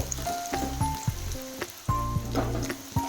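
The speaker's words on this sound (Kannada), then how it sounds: "ಎರಡು ಉಳ್ಳಾಗಡ್ಡಿ ಹಾಕೋಬೇಕ್ರಿ ಇದು ಸ್ವಲ್ಪ ಟ್ರಾನ್ಸ್ಪರೆಂಟ್ ಕಲರ್ ಆಗತ್ತನ ಫ್ರೈ ಮಾಡ್ಕೋಬೇಕು ನೋಡ್ರಿ ಹಿಂಗೆ" Chopped onions for a chicken gravy fry in a pan, a soft sizzle punctuated by repeated clanking stirs and scrapes of a spoon, up close with no talking.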